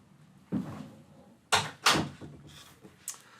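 A door bumps and thuds several times, with a couple of sharper knocks midway, close by and moderately loud in a quiet room with no talking.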